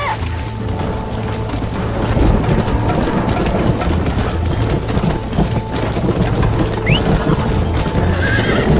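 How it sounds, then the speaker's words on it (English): Spooked horses stampede in the video game Red Dead Redemption 2. Loud, close, continuous clattering hooves run throughout, with neighs and whinnies over a low engine-like rumble. "They're spooked! We have to stop and stampede them!"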